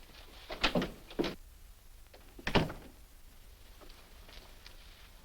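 An office door in a 1949 film-noir drama opens and shuts, a few sharp wooden thumps and clicks separated by short pauses, close and clear against a quiet room.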